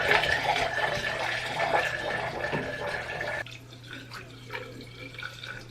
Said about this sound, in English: Now I'm supposed to pour a kettle of boiling water down the drain and just kind of let it flow